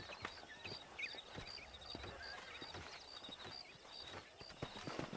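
Horse hooves clip-clopping steadily in Red Dead Redemption while wild horses are being wrangled, a fairly quiet, even rhythm of hoofbeats under faint birdsong and ambient game sounds.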